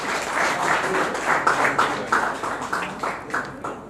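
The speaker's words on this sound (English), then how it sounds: "Let us clap for him." Audience clapping at a political alliance gathering of parties and civil organizations, a fairly close, rhythmic patter of hands that gradually thins out over a few seconds.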